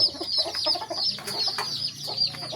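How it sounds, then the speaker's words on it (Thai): Several chickens cluck and chatter close by in an ongoing, irregular stream, with higher bird calls mixed in outdoors. "เนี่ยไก่ก็มีครับ มีทั้งกบทั้งไก่เลยพี่น้อง"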